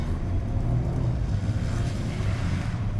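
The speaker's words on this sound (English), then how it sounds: "get it down in the gears, back on the throttle" Toyota GR Corolla engine pulling hard on a rally stage, a close, loud, steady low rumble with road noise and no talk over it.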